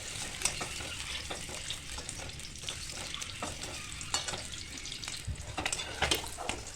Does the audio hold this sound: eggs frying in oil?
yes